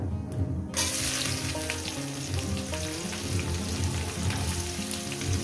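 Chopped onion hits a hot pan for a doi chingri dish, setting off a sudden loud sizzle that stays steady and close, with faint stirring clinks and no talking.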